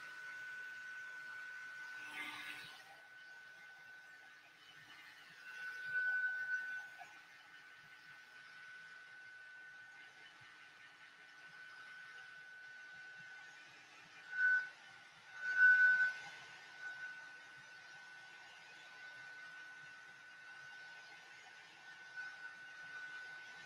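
Heat tool blowing hot air onto a paper sheet, a steady whining hiss with a constant tone that runs almost continuously, fairly quiet, with a few louder swells as the tool moves.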